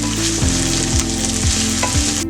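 Ginger and garlic sautéing in a hot pan, a steady loud sizzle with regular stirring scrapes roughly every half second, close and continuous with no talking.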